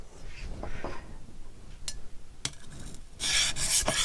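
A knife blade is rubbed over an oiled medium sharpening stone in irregular scraping strokes. It is faint at first, with a few sharp scrapes, then turns into a louder, rapid rasping near the end.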